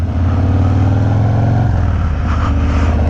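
A 2019 Harley-Davidson Heritage Classic motorcycle being ridden, its engine a loud, steady, close rumble that shifts in pitch partway through, with no talking.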